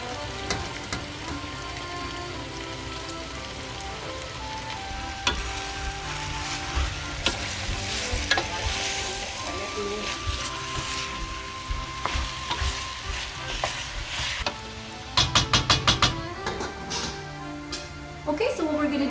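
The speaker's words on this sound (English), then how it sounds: "we're going to let that codfish cook gently with the caramelized onions on low heat" Codfish frying with caramelized onions in a pan over low heat gives a steady close sizzle, broken by stirring scrapes and a burst of clattering near the end.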